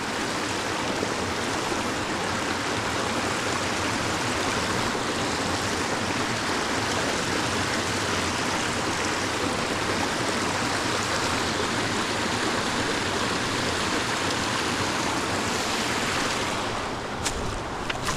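A roadside creek in Maine flows in a steady, even rush of water, close and constant throughout, with some wind buffeting and no talk.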